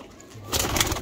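Pigeons cooing close by in a short soft burst, low and throaty, rising to a louder coo near the end, with no talk over it.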